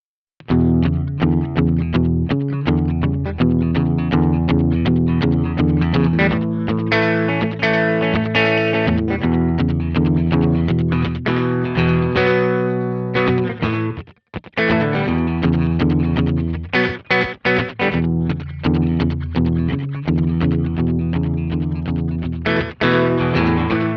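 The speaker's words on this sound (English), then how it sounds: "let's have a listen and see how it sounds on some guitar" Electric guitar through an Echo Farm EP1 tape delay emulation with wow and flutter, playing chords and lines with repeating echoes trailing behind, loud and continuous with brief pauses.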